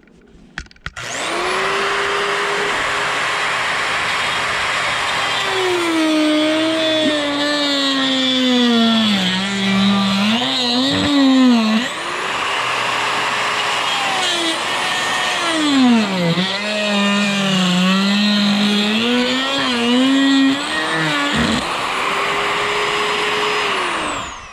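A die grinder fitted with a 3/4-inch Sabertooth cutter bit on a 1/4-inch shaft carves wood on a small owl, a loud, steady high whine that drops and wavers in pitch as it bites into the wood, then recovers.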